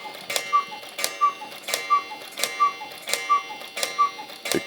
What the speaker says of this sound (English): The cuckoo clock going crazy in the background.